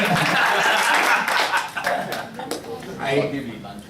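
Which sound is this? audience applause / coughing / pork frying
audience applause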